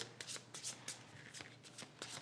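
Tarot cards riffled and shuffled by hand in a quick run of crisp bursts, close and fairly quiet, with no talking.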